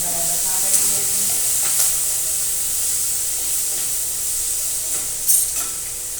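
Mustard seeds and chillies frying in hot oil, a steady loud sizzle and hiss with occasional stirring scrapes and pops, no talking.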